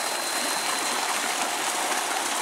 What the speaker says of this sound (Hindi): पानी आप इसका देख रहे हैं घूम के आ रहा है